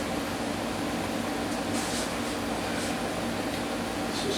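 A Makita 18 volt cordless trim router cuts into wood, giving a steady, loud broadband whir that holds without a break from start to finish.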